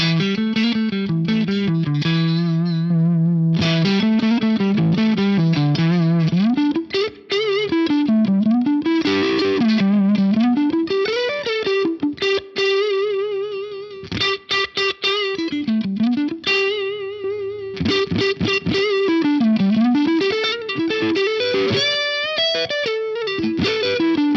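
Single-coil electric guitar through a four-knob tube driver overdrive, level up and gain low, on a Fractal modeler, plays a melodic single-note line with bends and slides, warm and gritty, loud and close with no talking.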